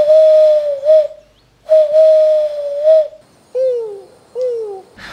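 A person whistles an imitation of a Eurasian collared dove, giving two long sustained cooing phrases and then two shorter falling ones, each separated by brief silence, close and loud with no talking.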